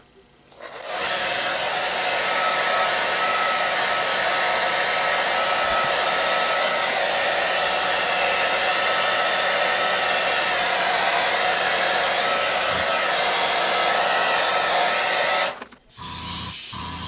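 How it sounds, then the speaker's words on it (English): A hair dryer blows on fresh paint on a 3D-printed Batman figure, a loud, steady whooshing roar that switches on, runs unbroken for about fifteen seconds, then cuts off abruptly. "I'm going to hit it with the dryer."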